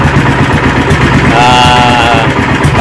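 A Sumo 15HP gasoline engine runs close and loud, a continuous throbbing putter with a fast, even rhythm and steady mechanical rattle throughout, heard alone without talk.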